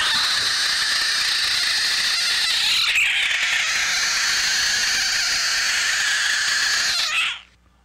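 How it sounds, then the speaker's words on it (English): A frog puffed up with its back being rubbed lets out a sustained, high, hissing screech that holds steadily for about seven seconds before cutting off, loud and close with no other sounds. "found a frog at work. And when you rub its back, it puffs up and lets out a weird screech as a defense mechanism"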